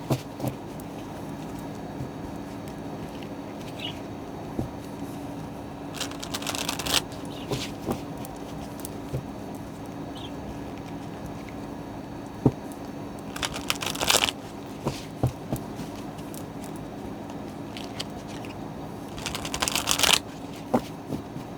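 Three brisk riffle shuffles of a deck of tarot cards, close and crisp, break up long quiet stretches of faint handling rustle, with no talking.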